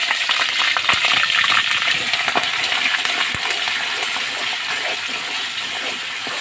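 Garlic, ginger and onion paste hits hot oil and spits in a dense, loud crackling sizzle with sharp pops, easing slightly into a steadier fry; no voices.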